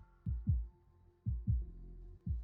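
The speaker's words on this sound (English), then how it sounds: "Suddenly, I hear a strong heartbeat" A strong heartbeat effect from the Love and Deepspace video game, three paired lub-dub thumps in slow, even rhythm, deep and close against a faint hum.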